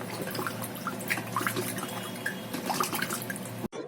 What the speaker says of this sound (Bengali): এবার আমি মাছগুলো ভালো করে ধুয়ে নিচ্ছি